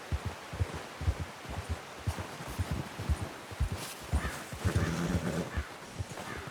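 Horse hooves clop in an uneven rhythm in Red Dead Redemption 2, steady close footfalls under a broad wash of ambient game noise, with a brief brighter sound near the end.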